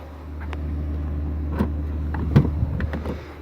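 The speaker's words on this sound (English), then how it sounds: "I'm gonna be quiet so you can hopefully hear it unlock." A 2013 Ram 1500 Sport unlocks through keyless entry, a few brief mechanical clunks and clicks over a low steady engine idle rumble, close by with no talking.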